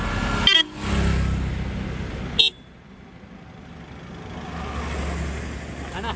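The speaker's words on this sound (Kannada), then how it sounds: "ನಾವು ಕುಂಭಮೇಳಕ್ಕೆ ಹೊರಟಿರುವಂಥ ಗಾಡಿ ಬರ್ತಾ ಇದೆ." Vehicle coming to pick up travellers heading to the Kumbh Mela: a nearby engine rumble with two short honks, the first at about half a second and the second near two and a half seconds, then a softer engine drone that gradually swells.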